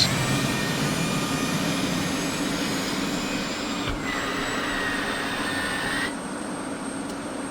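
An F-16 jet engine spools up during startup in the DCS flight simulator game, a loud steady whine and roar with tones climbing in pitch. A brief click cuts in partway through, and no one talks.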